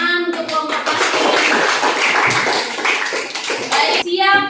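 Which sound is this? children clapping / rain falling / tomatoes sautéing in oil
children clapping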